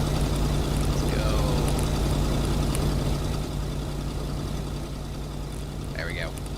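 Car engine idling in the video game Kona, a steady low drone that runs loud and constant throughout, with faint higher game effects on top.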